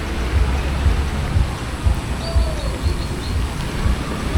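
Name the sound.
heavy rain falling in the street in Tulum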